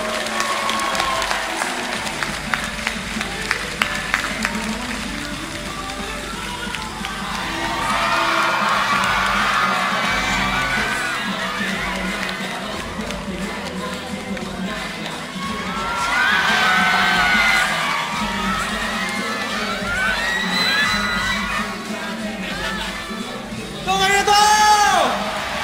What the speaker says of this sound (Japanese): 素晴らしいメンバーにもっとでっかい拍手を。